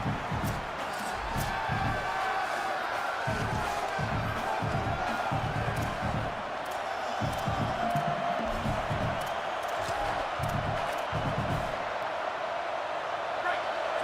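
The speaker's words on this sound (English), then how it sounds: "Listen to this crowd just shaking the girders of this place trying to help their defense." Loud, dense stadium crowd roar from a College Football 27 game, swelling with bursts of cheering throughout while a commentator's voice talks over it.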